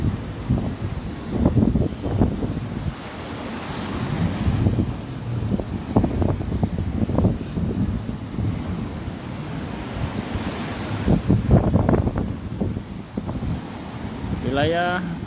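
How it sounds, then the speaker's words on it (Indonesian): Strong coastal wind roars over crashing high sea waves on the Bulukumba shore in the Makassar Strait during extreme weather, a steady broadband rush with gusts buffeting the microphone and faint voices underneath. "Wilayah Kabupaten Bulukumba terus dilanda dengan angin kencang dan gelombang tinggi."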